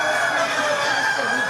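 Laying hens clucking inside a poultry research facility housing about 6,000 birds in cages at the University of Saskatchewan, a dense steady barn chorus of overlapping clucks and chatter with no clear single call.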